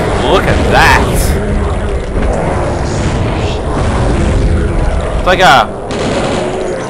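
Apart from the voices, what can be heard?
life leech magic fire weapon firing in the video game Blood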